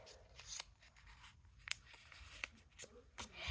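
A marker writing a note on paper, several short scratchy strokes and taps at close range, quiet and irregular, with small rustles of paper between them.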